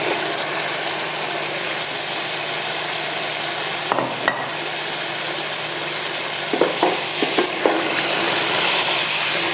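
Capsicum being stirred into mutton masala frying in oil: a steady, dense sizzle runs throughout, with a few sharp spoon-against-pan knocks near the middle and a cluster of scraping clatters toward the end. No voices.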